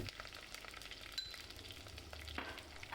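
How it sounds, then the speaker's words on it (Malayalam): Shallots, garlic and curry leaves sautéing in a pan for Kerala-style sambar, giving a quiet continuous sizzle with soft stirring scrapes, close and faint. "ചുവന്നുള്ളി വെളുത്തുള്ളി കുറച്ച് കറിവേപ്പില ഇത്രയും കൂടി ചേർത്ത് നന്നായി ഒന്ന് വഴറ്റിയെടുക്കാം"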